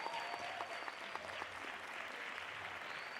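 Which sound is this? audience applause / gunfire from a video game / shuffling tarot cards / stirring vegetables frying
audience applause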